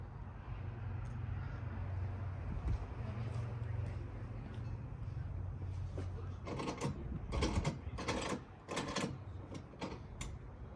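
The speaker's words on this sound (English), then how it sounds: "Gonna need a 3/4 inch socket with a couple extensions" A 3/4 inch socket on extensions works a bolt on a motorcycle, giving a run of sharp metallic clicks and ratcheting clatters in quick bursts toward the end, after a low steady hum with someone talking.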